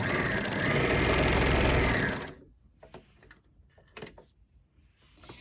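Overlocker sewing machine chaining out thread after sewing a cosmetic bag, running loud and steady up close for about two seconds, then stopping and leaving scattered light handling clicks.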